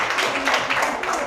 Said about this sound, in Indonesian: Tepuk tangan untuk semua kelompok yang sudah maju ke depan